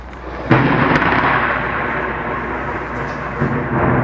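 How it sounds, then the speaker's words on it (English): Thunder rumbles in a deep, broad roll that breaks sharply and then sustains as a long, loud rumble, swelling again toward the end. "What, the sound of thunder?"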